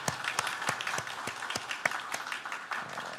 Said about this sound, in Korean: 우리 잠깐 박수로 환영하겠습니다.